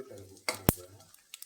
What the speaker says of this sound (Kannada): ಸಾಸಿವೆ ಸ್ವಲ್ಪ ಸಿಡಿದ್ಮೇಲೆ ಒಂದು 2 ಟೇಬಲ್ ಸ್ಪೂನ್ ಆಗೋಷ್ಟು ಕಡಲೆ ಬೀಜ ಹಾಕ್ಕೊಂಡು ಫ್ರೈ ಮಾಡ್ಕೊಳ್ತಾ ಇದ್ದೀನಿ